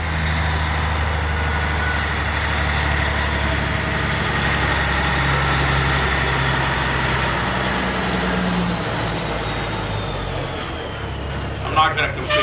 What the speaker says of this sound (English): I'm not going to compete with a truck.